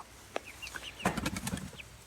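Pasture chickens cluck and chirp in short, scattered calls, with a brief flurry of wing flapping and louder clucks in the middle; close by, no talking.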